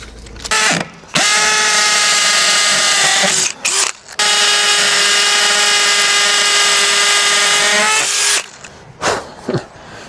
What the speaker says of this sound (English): Can drill them out.